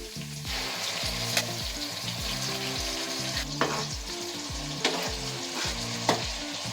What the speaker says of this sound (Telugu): ఆనియన్ పేస్ట్ కూడా వేసుకొని ఆయిల్ పైకి తేలేదాకా కలుపుకోవాలి.